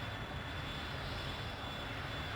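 Dassault Dornier Alpha Jet engines in Microsoft Flight Simulator hold a constant, dense, droning roar at low throttle, steady and unbroken throughout with no voices.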